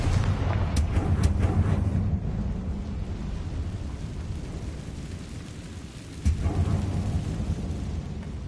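Confringo fire spell blast in Hogwarts Legacy, a loud rumbling explosive boom with a sharp crackling burst near the start and a second thump later, sustained deep roar throughout.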